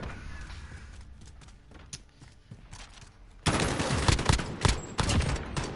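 Rapid bursts of automatic gunfire in a Call of Duty Modern Warfare competitive match, sparse sharp shots at first, then a loud, dense fusillade of overlapping rounds in the second half.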